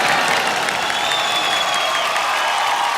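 Large audience applause at the IIFA 2023 awards show, a loud, dense and continuous roar of clapping with some cheering mixed in, steady from start to finish.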